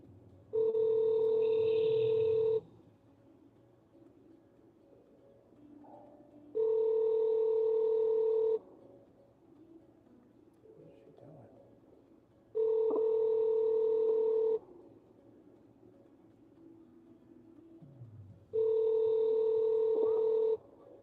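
A phone call being placed: four evenly spaced bursts of steady ringback tone, each about two seconds long, sound over a faint background hum with long quiet gaps between them.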